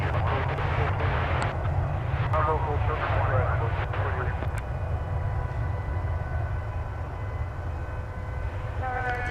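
An Airbus A321 arrives at DFW Airport on a wet night after rain, its jet engines a steady, broad roar at a distance while people talk over it.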